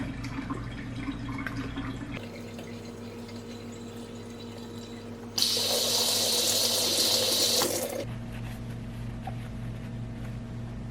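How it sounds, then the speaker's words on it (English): Running tap water splashing over an apple at a kitchen sink, a steady close gush that gets brighter and louder for a few seconds while the fruit is rinsed, then settles back. "I'm gonna wash this apple."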